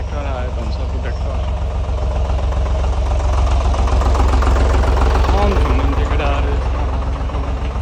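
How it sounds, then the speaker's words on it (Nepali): Tractor engine running with a steady low throbbing drone that stays loud and close the whole time while voices talk over it. "ट्र्याक्टर आयो भन्छ ट्र्याक्टर"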